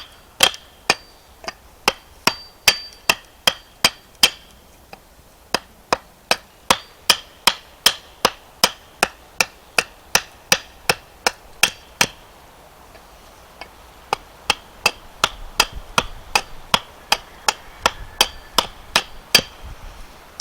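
Hard wood being shaved down on a hatchet handle: a long, steady run of crisp, sharp knocks at an even pace, close and clear, with one short pause midway and no talk.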